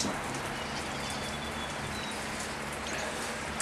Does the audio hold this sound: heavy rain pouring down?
yes